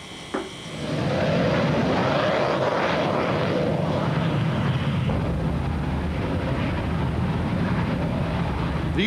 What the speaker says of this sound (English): These rockets propelled the aircraft skyward from a mobile launching sled.